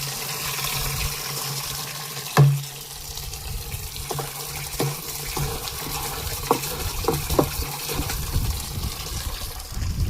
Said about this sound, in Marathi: हे केले आपण पाणी चालू।